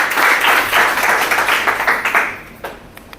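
An audience at a network marketing seminar in India applauds loudly, the dense clapping holding steady before thinning out and fading near the end.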